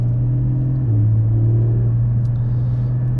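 A Porsche GT4 sports car cruises along a country road, its engine a steady loud droning rumble from inside the cabin, the tone stepping slightly as speed changes, with no talk.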